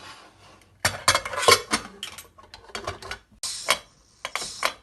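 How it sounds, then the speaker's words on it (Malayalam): Pressure cooker lid being closed over idli batter and sambar, a run of sharp metallic clanks, scrapes and clicks in irregular bursts close by, no voices. "ഇനി നമുക്ക് കുക്കറിൻ്റെ അടപ്പടച്ച് നമുക്ക് വേവിക്കാൻ പറ്റും"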